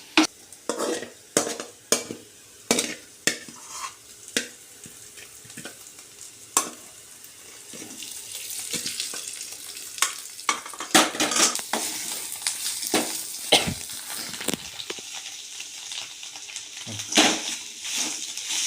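Paneer and pepper masala in a pan, with a spatula scraping and clacking rhythmically against the metal, then a denser continuous frying sizzle under more stirring, close and moderately loud, no voices.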